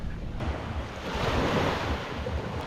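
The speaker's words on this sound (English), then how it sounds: "just like that, we're down at the beach" Ocean surf washes onto a quiet beach at Playa Pesquero in Holguin, Cuba, a continuous close roar of waves mixed with wind buffeting the microphone.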